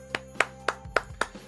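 Applause for a live-show staff: five crisp, evenly spaced handclaps ring out one after another in a short, bright, close rhythm.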